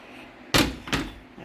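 A stove's oven door being opened makes two quick, fairly loud thuds in succession, heard close up in an otherwise quiet kitchen.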